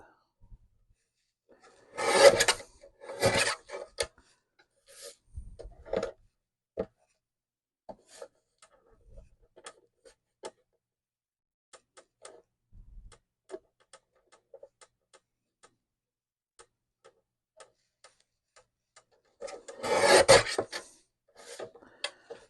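Trimming a letterpress card, with a few short bursts of rasping, scraping cuts separated by quiet gaps and faint small ticks and handling noises, close and fairly soft.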